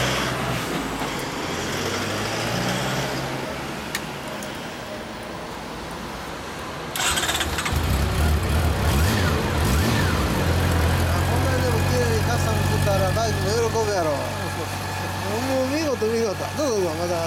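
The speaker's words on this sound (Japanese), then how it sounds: "エンジン音聞かせて" A 2016 Honda CB400 Super Bol d'Or Hyper VTEC Revo motorcycle engine turns over and settles into a low, steady idle rumble, with people talking nearby over the running motor.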